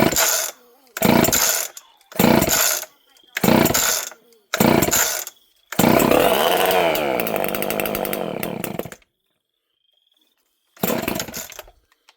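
Homelite chainsaw, a model without a decompression valve, pulled over in five short bursts that fire and catch, then runs for about three seconds before cutting off and restarting briefly; loud and close, no talk.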